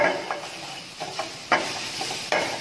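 Mashed potatoes being stirred into a spiced masala frying in a pan, with soft scraping strokes and a faint sizzle, including a few sharper scrapes spaced about a second apart.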